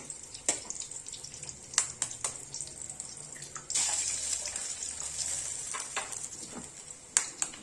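Eggs frying with vegetables in a pan for egg noodles give a steady close sizzle and crackle, broken by a few sharp clicks and scrapes of a utensil, with the hiss swelling louder midway.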